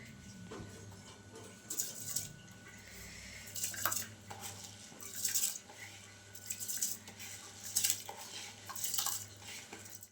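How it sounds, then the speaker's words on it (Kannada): Two glasses of washed rice for jeera rice being tipped into a pressure cooker, heard as a series of wet scraping and clattering bursts at a steady pace, close by and moderately loud, with no talking. "ಈಗ ಇದನ್ನು ಕುಕ್ಕರ್ಗೆ ಹಾಕ್ತೀನಿ"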